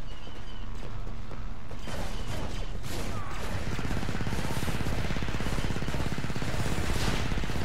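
Rapid chain gun fire in Star Wars Battlefront 2, a Powered Sides mod with Advanced Recon Commandos, running as a dense, continuous rattle of shots over the whole stretch with battle noise behind it.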